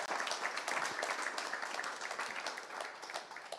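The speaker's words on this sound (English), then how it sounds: "Give a round of applause to yourselves, because you made it all the way through as well." Audience applause at the end of an afternoon conference session on building retrofit at the Building Centre, London: steady dense clapping from a crowd, fairly distant and even, sustained throughout without a break.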